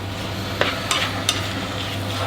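An herb mix being stirred in a hot pan with onion, a steady low sizzle with three quick utensil scrapes and taps against the pan, close, over a constant low hum.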